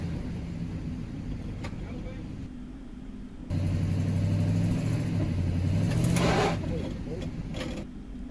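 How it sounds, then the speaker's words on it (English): A truck pulls on a chain attached to a Pontiac G6's damaged front end to straighten it, with a steady engine rumble that swells and revs louder midway, then eases off near the end. "we tied a chain to the truck and we gave it a good pull"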